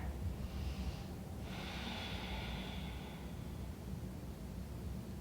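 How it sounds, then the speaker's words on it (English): A long, slow inhale followed by an airy exhale during a stretching exercise, soft and close over a faint hiss, with no talking. "Deep breath here"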